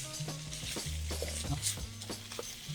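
Shrimp fried rice tossed and stirred in a seasoned wok, with a steady sizzle broken by repeated scraping strokes of a spatula against the metal, close and moderately loud, with no talking.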